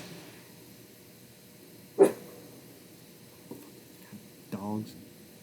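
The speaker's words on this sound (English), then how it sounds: "Dogs." A dog gives one sharp bark, then a few fainter yips and a short whine-like bark, heard over a quiet hiss with a person talking softly nearby.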